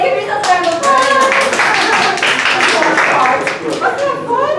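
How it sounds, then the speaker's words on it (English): Children clap in a round of applause after a card game, a dense run of hand claps mixed with kids' voices chattering throughout, close and steady for several seconds. "give yourself a round of applause"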